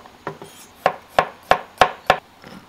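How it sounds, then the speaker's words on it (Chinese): A knife chopping ginger and garlic on a cutting board, giving about eight crisp, evenly spaced chops in a steady rhythm, close and clear with no talk. "然后把那个姜蒜都给它切一下"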